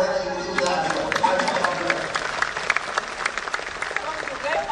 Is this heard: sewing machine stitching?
no